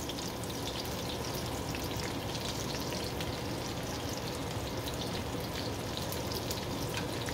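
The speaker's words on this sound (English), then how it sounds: "Let that butter melt down." Butter melting in a hot pan with shrimp, giving an even, crackly sizzle with fine popping spatters that holds steady throughout, close and moderately loud with no voices.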